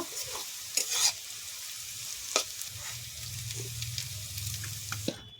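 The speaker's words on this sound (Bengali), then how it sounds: "পেঁয়াজটা লাল লাল করে ভেজে নেব।" Onions fry in a pan to a deep reddish brown for Basanti pulao and Kalbat chicken curry, a soft continuous sizzle broken by sharp stirring scrapes and clacks of a spoon against the pan, with a low rumble underneath.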